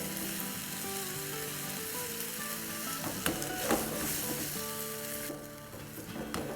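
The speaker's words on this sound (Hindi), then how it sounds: "अब इस पॉइंट पर हम अपना सॉस इसमें डालेंगे। और इसको मिला लेंगे।" Sauce being stirred into chicken frying in a pan for a fusion platter, with a steady loud sizzle under scraping stirring strokes and a few sharper clatters from the utensil, with no voices.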